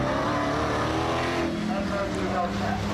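A Dodge Durango races a Honda Accord in a drag race, the engines roaring loud and steady with a droning rise, blended with the noise of a crowd.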